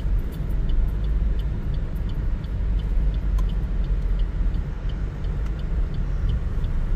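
A car drives along a road near Kankavli, giving a steady, close low rumble of engine and tyre noise that carries on without a break.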